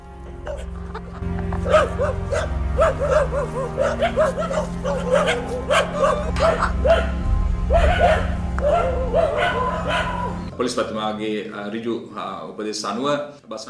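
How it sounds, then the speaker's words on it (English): Police sniffer dogs bark repeatedly in a steady run of yips and barks at an attacked journalist's residence in Sri Lanka, with voices and background noise underneath. "The police had launched investigations into the incident using sniffer dogs as well."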